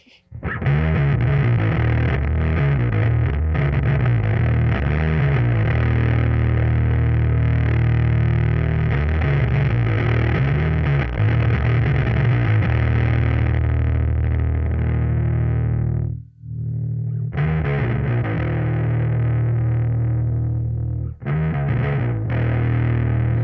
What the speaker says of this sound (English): fuzz, which is one of my favorite things to use on bass. This is based on the 1973 Electro Harmonics Ram's Head Big Muff Pie